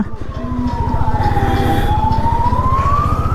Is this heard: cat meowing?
no